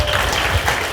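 Applause from the audience at a Korean book launch and author meeting, a steady crowd of clapping filling the whole moment without speech.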